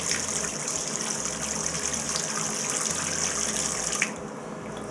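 Water gushes steadily from a bathtub faucet with no aerator, a continuous rushing stream close by with a small clunk near the end.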